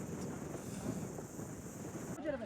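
Strong wind at Kyatanamakki hill station buffets the microphone in a continuous, rough roar with gusty swells, while a voice talks faintly underneath.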